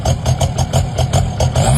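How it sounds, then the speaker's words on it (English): Idling 1.9 ALH TDI diesel engine in a Volkswagen Beetle fitted with a loud, oversized exhaust, giving a steady rumbling drone with regular pulsing throbs, close and fairly loud, no talking. "A Beetle with a monster exhaust."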